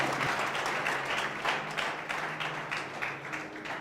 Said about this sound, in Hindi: जोर से प्रभु के लिए ताली बजाएंगे।